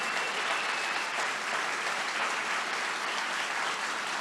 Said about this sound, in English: Now all of you can give a big round of applause to this amazing 8 contestants